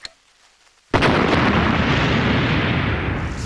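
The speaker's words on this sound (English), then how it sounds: "Your own birthday fireworks extravaganza!" A cartoon birthday fireworks display goes off in one sudden, loud explosive burst after a short quiet moment, then roars on as a sustained, crackling blast.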